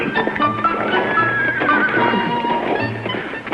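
A horse whinnies and neighs with hooves clopping, close and steady, layered over a busy background of other sounds.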